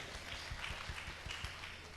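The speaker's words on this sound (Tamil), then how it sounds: "இன்னும் சத்தமா கைதட்டுங்க." An audience at a Catholic priest's sermon claps along. The clapping is faint and distant and sounds soft and uneven, with a low rhythmic thump beneath it.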